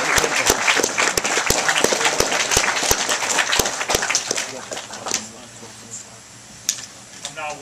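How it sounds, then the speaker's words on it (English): Live audience applause at a guitar performance at Willis Music in Florence, Kentucky, loud dense clapping with sharp individual claps that thins out and fades toward the end. "get a round of applause for all the great people here at Willis Music"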